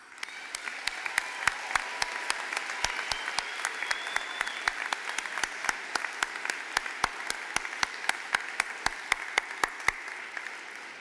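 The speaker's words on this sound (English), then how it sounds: "So one more round of applause." Sustained applause from the audience at a spring university graduate school commencement ceremony, steady dense clapping with sharp individual claps poking out, moderately distant and unbroken for the whole stretch with no talk over it.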